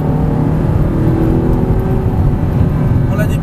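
Audi R8 on a race track during a driving course, its engine droning loud and steady under constant close rumble, pitch holding then edging up as the car accelerates.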